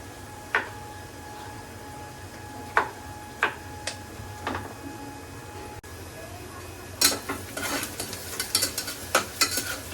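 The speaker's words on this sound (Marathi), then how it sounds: "कांदा मस्त असा तेलामध्ये परतलाय" Onion frying in oil in a home kitchen for a quick chicken biryani, heard as a steady low sizzle with sharp spoon taps and clatters against the pan, the stirring growing busier toward the end.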